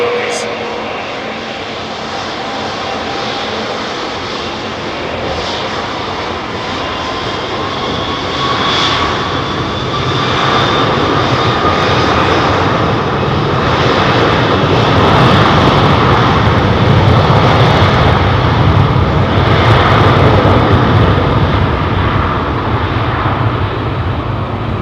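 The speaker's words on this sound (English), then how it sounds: "Listen to how long this spool up is." Jet airliner engines spool up for takeoff at London Heathrow, a loud sustained roar building slowly over many seconds with a rising whine.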